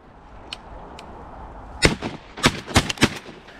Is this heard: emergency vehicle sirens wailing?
no